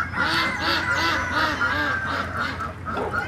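Ducks quack and geese honk together on a farm in a steady rhythmic chorus, loud and close throughout with no pause.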